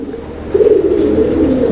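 Low, throaty pigeon cooing swells in after a quiet start and rolls on steadily, fairly close, with no talking.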